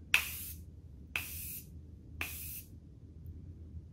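Three short bursts of ONE SIZE GO OFF makeup dissolving mist sprayed onto a face, each a soft airy hiss with a sharp start that fades over about half a second, evenly spaced over a low quiet room hum.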